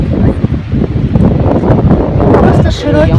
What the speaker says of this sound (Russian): потому что ветер дует сумасшедший